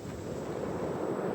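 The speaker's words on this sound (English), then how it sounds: "this wind was not how it was on the forecast when we started from home" Wind on the Bristol Channel coast in South Wales during shore fishing, a steady rushing roar buffeting the microphone, loud and continuous with surf mixed in.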